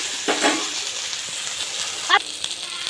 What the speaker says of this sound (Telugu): అదే ప్యాన్లో కొద్దిగా ఆయిల్ అయితే వేసుకొని టమాటో ఆనియన్ పచ్చిమిర్చి అయితే కొద్దిగా ఇలా మగ్గించుకోవాలండి